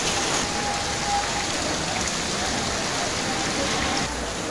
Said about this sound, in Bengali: বৃষ্টির অবস্থা দেখো কি ভয়াবহ বৃষ্টি হইতেছে,